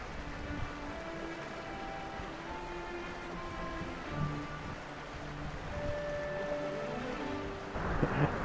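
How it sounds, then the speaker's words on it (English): Water flows steadily through a quiet mountain landscape, a soft continuous rushing with a faint hiss, heard fairly distant and low, swelling slightly near the end with no voices. "listen to the water"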